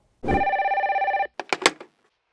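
A telephone bell rings once in a steady, trilling burst of about a second, then a few quick clicks and knocks follow, like a handset being picked up, before silence.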